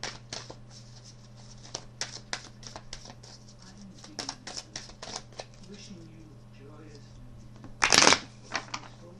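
Tarot cards shuffled in quick bursts of riffling and flicking, with a louder, denser shuffle near the end over a steady low hum; a voice speaks softly in between.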